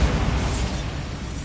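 A Bombarda explosion spell goes off in Hogwarts Legacy, a loud, dense blast that rumbles heavily and slowly fades across its length with no voices.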